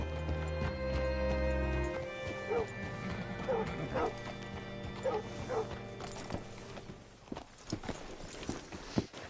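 Rhythmic clip-clop of horse hooves in Red Dead Redemption 2 over a low hum and game-style ambience, with a dog barking a few times in between.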